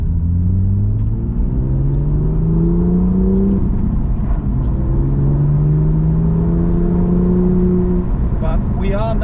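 A car drives along a bumpy tarmac road in the Cairngorms of Scotland, its engine rumbling and rising in pitch as it accelerates and shifts, steady and loud throughout with road noise beneath, and a person speaks over it.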